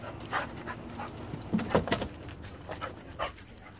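A dog panting during grooming, with quick, soft breathy huffs in an uneven rhythm, close by and moderately quiet over a low background hum.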